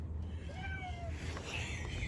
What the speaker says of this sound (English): there's a random cat in here